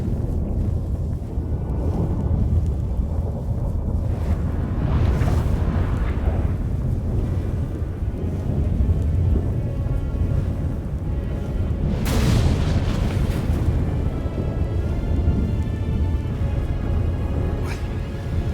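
A storm in The Witcher 3 roars continuously with heavy wind and deep rumbling thunder, swelling into two louder crashing surges along the way.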